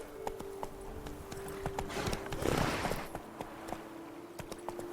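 Hooves clip-clop in a steady galloping rhythm as a horse runs in The Witcher 3: Blood and Wine, fairly soft and continuous, with a rushing swell midway.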